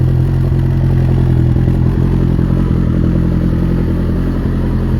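A turbocharged Polaris Pro R UTV engine runs cold at a steady, unrevved idle, a loud continuous low rumble with faint mechanical clatter, close by and with no talk.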